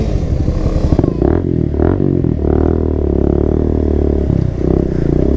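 Several motorcycles set off together on a group ride, engines rumbling loudly up close with repeated throttle revs and clattering mechanical noise over a steady low drone.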